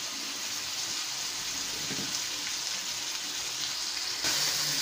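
Fresh washed fenugreek leaves dropped into sizzling masala for moong methi dal, a constant hissing sizzle with a soft rustle near the middle and a louder burst of frying near the end, no talking.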